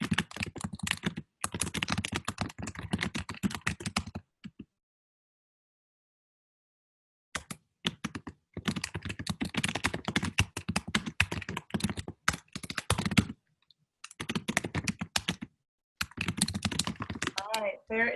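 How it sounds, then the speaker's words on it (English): Vigorous typing on a computer keyboard from an unmuted participant in an online volunteer webinar, rapid clattering keystrokes in close bursts separated by brief silent pauses, fairly quiet and alone. "there is some vigorous typing going on from one of us who is unmuted"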